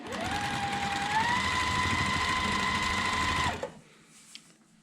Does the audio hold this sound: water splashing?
no